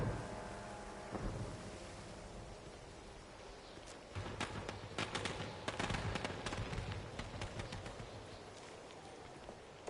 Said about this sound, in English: It totally sounds like fireworks are going off.